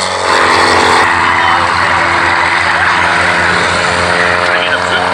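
A Spartan vintage aircraft with its wheels down flies past at the East Kirkby airshow in Lincolnshire, its engine giving a loud, steady drone that fills the whole stretch.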